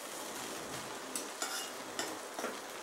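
Stirring and mixing veg biryani in a cooking pot, a steady soft scraping and sizzling texture with a few sharper spoon knocks against the pot near the end, close and fairly quiet.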